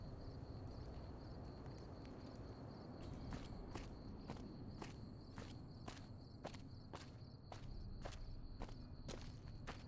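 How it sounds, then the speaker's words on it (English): Footsteps in the Minecraft video game, a steady series of crisp, evenly spaced steps over a dense low rumble of background noise, with no talking. "I can hear footsteps."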